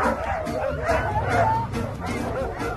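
Sled dogs at a summer training session bark, yip and whimper excitedly in a continuous, overlapping chorus nearby, with a faint murmur of people in the background.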